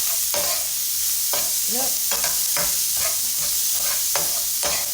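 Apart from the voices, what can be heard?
frying onion, cilantro, garlic and ginger seasoning in a pan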